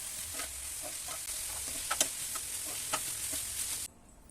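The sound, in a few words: gobi manchurian frying in sauce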